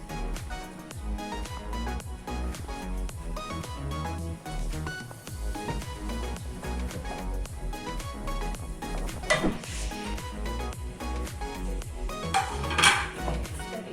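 Grated coconut goes into thickened milk in a pan for coconut burfi, a little at a time. A spoon clinks and scrapes against the metal pan with a busy, irregular clatter throughout.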